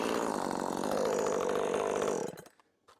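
A Jonsered 2258 chainsaw runs loud and close at a steady high rev, then its engine note drops away abruptly toward idle and near silence, with a faint knock at the end.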